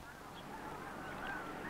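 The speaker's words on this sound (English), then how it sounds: "The geese took off, but as everyone watched, they headed northwards, straight back into Canada." Snow geese honk as the flock lifts off, a steady wash of overlapping calls at moderate distance with no pause across the short stretch.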